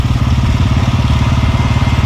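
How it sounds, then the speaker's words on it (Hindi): A Royal Enfield Bullet motorcycle engine in Manali, Himachal, thumping with a steady, rapid loud pulse up close, alone without talk. "सोचा आज बुलेट की सवारी हो जाए।"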